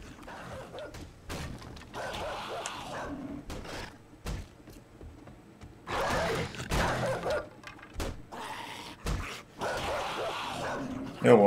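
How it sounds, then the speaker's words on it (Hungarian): A dog in the survival game 7 Days to Die barks in sharp, irregular bursts, some close and loud and some softer, mixed with thuds, while a person talks over it. "Kutya van, gyerekek, kutya van."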